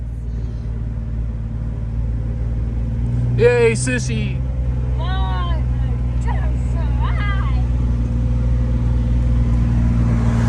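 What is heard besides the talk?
Jeep with manual transmission driving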